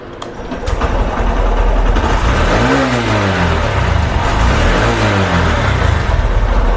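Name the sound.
vehicle engine starting and revving after repair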